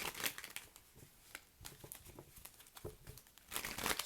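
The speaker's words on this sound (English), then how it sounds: "Let's lay these cards out." Tarot cards being laid out on a table: quiet, close rustles and crisp slaps of card stock, with shuffling crinkles and several distinct card placements in an irregular rhythm.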